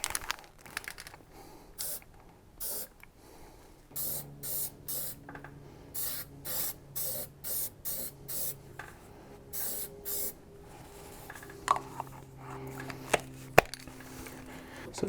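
Primer spray-painted onto a Jeep TJ tire carrier bumper, a series of short, crisp aerosol bursts in a rhythmic run, then a few scattered clicks and knocks, fairly quiet with no talking.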